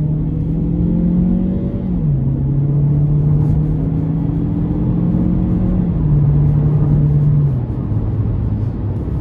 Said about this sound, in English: So pretty good pull from the turbo four, and the 6-speed shifts pretty seamlessly.